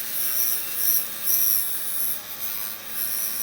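A hacksaw blade is ground into a lockpick on a motorized grinder. A high, hissing grinding rises and falls in several short pulses as pressure changes, close and loud, with no speech.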